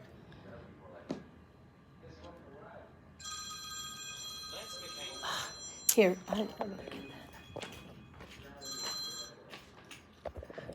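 A telephone rings indoors in a quilting session around a Janome M7 sewing machine, its electronic trilling tones coming in bursts over a steady room background, with people talking throughout.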